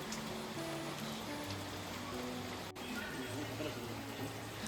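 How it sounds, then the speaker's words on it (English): Soft rain patters steadily during an evening walk in a cool breeze, a faint, even hiss of drops with faint musical tones underneath and no voices. "An evening walk, cool breeze, and soft raindrops that caught us by surprise."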